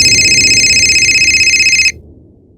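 A telephone bell rings in a steady, loud electronic trill for about two seconds, then cuts off abruptly, leaving quiet room tone at a police station in a crime drama.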